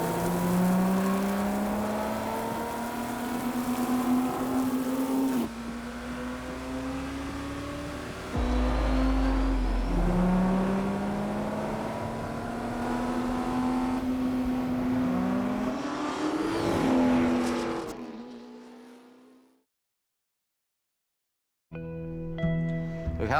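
A race car for a period racing film is recorded from outside microphones as it passes and revs, rising and falling engine whine sweeping up in pitch through several gear changes, loud and close, before cutting to silence and a short final burst.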